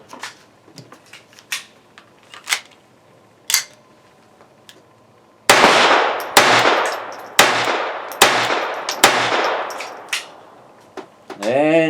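Sig Mosquito .22 LR pistol firing a string of sharp, loud shots in quick succession, each followed by a ringing metallic tail, after quieter clinks and handling clicks at the start.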